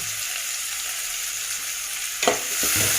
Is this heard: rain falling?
no